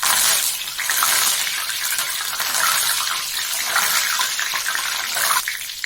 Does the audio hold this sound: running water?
yes